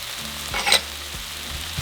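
Ground meat seasoned with onion powder, cumin, black pepper and salt frying in a pan, a steady close sizzle with a brief louder burst of stirring midway.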